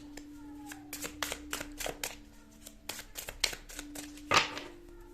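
Tarot cards shuffled and drawn during a love reading, a run of quick crisp riffling and snapping slaps, close and fairly soft, over a steady low background hum.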